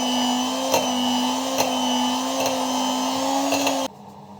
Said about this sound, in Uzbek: Kakaoli massamizni ham bir mikserlab olaman.